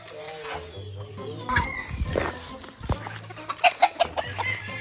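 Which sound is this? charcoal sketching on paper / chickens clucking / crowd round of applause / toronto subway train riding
chickens clucking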